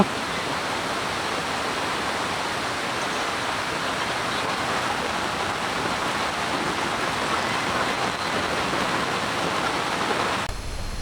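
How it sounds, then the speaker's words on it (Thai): Heavy rain pours steadily at a campsite beside a waterfall in Thong Pha Phum, a dense, unbroken roaring hiss that stays loud and even throughout. "ตอนนี้ฝนมันตกนะครับปล่อยๆนะครับ"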